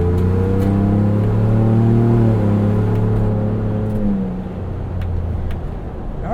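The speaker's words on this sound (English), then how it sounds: "The exhaust sounds great." A Ford Bronco with a 2.7L V6 and MRT axle-back exhaust holds a steady, loud engine drone heard from inside while driving, then the pitch drops and eases off as the revs fall near the end.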